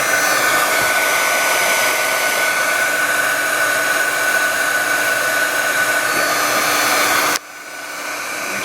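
A heat gun blows a steady, loud whooshing roar while shrinking solder shrink sleeves, running continuously for about seven seconds before cutting off to a quieter hum.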